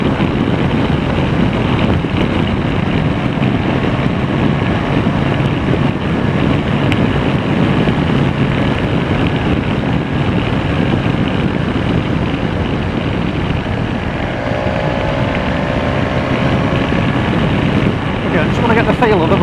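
A BMW S1000XR motorcycle riding on an open road, with loud, steady wind rush buffeting the microphone the whole way through and no voices.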